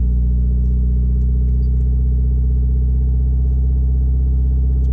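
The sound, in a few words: Toyota MR2 engine revving, not idling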